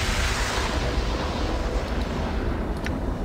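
Mechanic's Cannon blast in the video game Planescape: Torment, a loud, sustained roaring burst of broadband rumble that holds steady for about three seconds with no speech over it.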